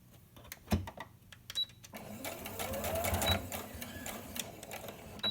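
A sewing machine stitches across a fabric face mask, starting with a few sharp clicks and taps before settling into a steady, close whirring run of stitches that continues to the end.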